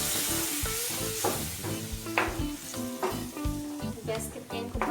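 Onion, cashew and yogurt paste sizzles steadily in a hot pan for a Gobi Matar Malai curry, with irregular bursts of spitting and stirring scrapes.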